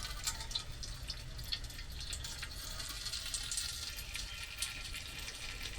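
Ground raw mango being squeezed through a cloth to drain off its water for aam kasundi: a soft, steady trickle and drip of liquid, close and fairly quiet, with no talking.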